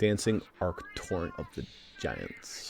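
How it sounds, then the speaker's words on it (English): A cat meows in the video game Tiny Tina's Wonderlands, a brief high mewing that comes through between and beneath a man's close, steady speech. "That's a cat."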